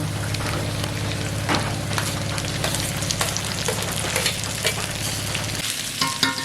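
Garlic, ginger paste and chopped tomato sizzling and frying steadily in hot oil for a fish curry, with stirring clatters throughout and a sharper burst of sizzle as the tomato goes in near the end; no talking.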